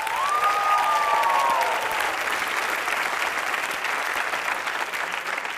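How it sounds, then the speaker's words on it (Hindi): Loud, sustained applause from a crowd, steady clapping filling the room with a faint whistle near the start. "इनके लिए जोरदार तालियां।"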